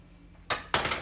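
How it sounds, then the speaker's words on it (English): Vegetables stirred in a pressure cooker pot, with two quick metallic scrapes and knocks of a utensil against the pot, close and quiet. "Give it a bit of a stir."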